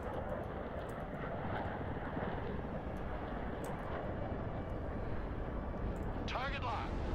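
F-35 joint strike fighter roaring overhead in the modern-warfare strategy game Broken Arrow, a steady, loud broadband jet rumble throughout, with a brief rising whine near the end.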